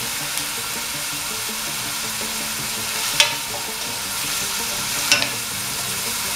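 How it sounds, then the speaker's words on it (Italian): Chopped onions sauté in a pan for chili con carne, giving a steady close sizzle with two brief clinks of stirring against the pan. "Lasciamo rosolare un attimo le cipolle"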